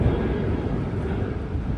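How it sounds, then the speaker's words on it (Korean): An airplane passes overhead on a sunny day in Brisbane, Australia, heard as a steady, broad rumble that holds at an even level throughout with no clear voices. "비행기 간다 저기."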